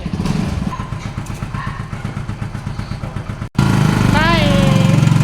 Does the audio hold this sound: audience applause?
no